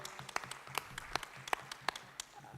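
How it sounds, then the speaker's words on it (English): Sparse, light clapping from a small conference audience, faint and somewhat distant, a scattering of separate claps rather than full applause. "That deserves a round of applause."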